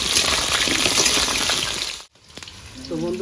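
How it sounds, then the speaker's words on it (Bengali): Potatoes frying in hot oil in a home kitchen give a loud, dense sizzling hiss that cuts off abruptly, then returns quieter. "তেলটা আমার গরম হয়ে গেছে, আমি আলুটা ভেজে নেবো।"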